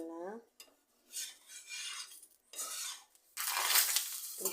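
A metal spatula scrapes and clinks against a pan while a dosa is turned over, with a few separate bursts of scraping and a louder sustained scrape at the end, close up.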